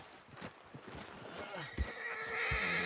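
A horse neighs and whinnies in the Red Dead Redemption 2 video game, mixed with hoof clip-clops and other game sounds, with a voice speaking over parts of it and a rising tonal whinny near the end.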